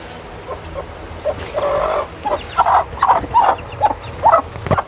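An Aseel hen clucking repeatedly at close range, a run of short, uneven calls that grow busier toward the end over a low background hum, with no one speaking.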